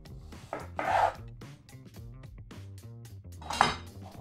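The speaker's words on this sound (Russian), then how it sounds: "Далее нарезаем лук красный" Kitchen knife cutting a red onion into rings on a board for a tuna salad, several crisp slicing and tapping strokes with two louder cuts, close and clear with no talk.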